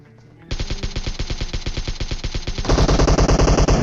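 PUBG Mobile gunfire in a last-circle squad fight at a house: a steady rapid stream of automatic shots, loud and close, joined after a few seconds by a second, denser and louder burst of fire.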